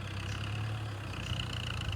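An old MU 4 farm tractor engine runs in first gear, a steady, low, quiet rumbling hum that holds even throughout with no talking.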